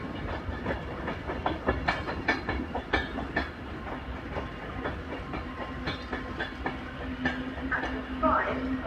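A train rolls through Crewe station on the West Coast Main Line with steady rhythmic clickety-clack of wheels over rail joints, a continuous rumble throughout, and faint voices in the background.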